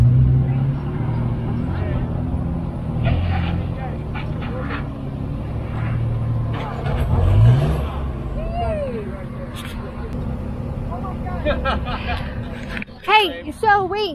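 An off-road vehicle slowly crawls up a steep hill at an off-road gathering with Jeeps and Broncos. A steady low engine drone runs throughout under near-constant talk from people, with a few brief squeaks and clanks near the end.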